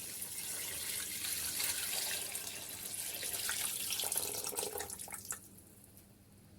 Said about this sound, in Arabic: هلا راح ننزل مي، نشوف الكمية اللي راح تاخذها معنا.